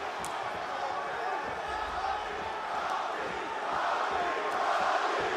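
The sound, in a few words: pro-Lawler crowd at UFC fight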